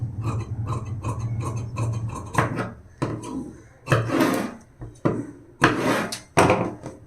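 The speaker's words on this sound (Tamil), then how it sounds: "இப்போ கரெக்டாக அந்த மார்க்லேயே கட் பண்ணி எடுத்துடலாம்" Scissors snip through blouse fabric along a marked cutting line for a 42-size lined blouse, a close series of dry crunching cuts, steady at first and then in separate louder strokes, with no talking.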